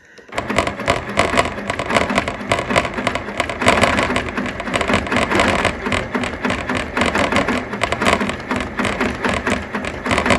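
A sewing machine runs steadily, stitching a quilt block along a ruler. Its rapid, even needle chatter goes on without a break, close and fairly loud, with no voices.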